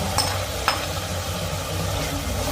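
Fried onions stirred into masala in a pan while cooking potato murgh cholay, giving a steady sizzle with a couple of sharp spoon scrapes near the start.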